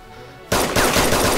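Sudden loud gunfire in the video game DayZ Standalone, a rapid close burst of shots that breaks out of near silence and keeps going to the end.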